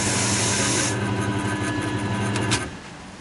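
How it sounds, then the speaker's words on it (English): Buffing wheel polishing a freshly cut key on a Silca key machine, a continuous close whirring hiss with a steady motor hum underneath, the grinding texture lightening after about a second, with no talking. "We'll give it a quick buff. There's our buffing wheel."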